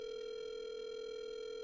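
A steady, continuous telephone dial tone, heard while calling a friend, holds at an even level, clear and alone, with no voices over it.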